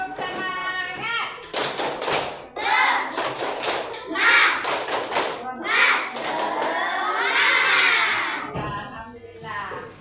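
Children's voices in a classroom chant together in rhythm, punctuated by bursts of hand clapping, loud and close throughout.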